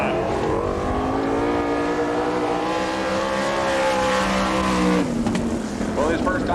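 A sprint race car roars through a qualifying time trial on a Georgia dirt oval, its engine droning loud and steady with shifting pitch as it works the backside, while an announcer talks over it.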